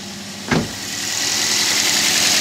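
A 2008 Toyota Yaris engine cranks with a short burst and settles into a rough, uneven idle after a coil pack test, growing slightly louder and steady, close to the listener.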